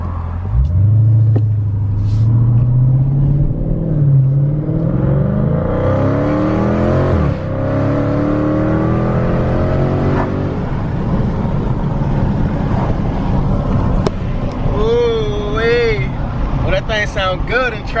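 A Dodge Challenger Scat Pack V8 revs hard and accelerates, a loud rising rumble climbing in pitch through gear changes, then settling into a lower drone, with a voice talking over the later part.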